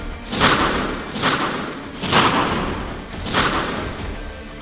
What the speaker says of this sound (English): A chain of explosions? The entire top level is collapsing.